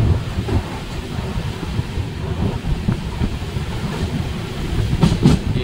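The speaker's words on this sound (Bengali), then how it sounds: "এখন আমরা পাস করছি 12-510 গুয়াহাটি থেকে বেঙ্গালুরু এক্সপ্রেস।" The 12510 Guwahati to Bengaluru Express passing near New Farakka Junction: a steady, loud rumbling rush of rail wagons with faint rhythmic clatter, heard continuously up close without talk.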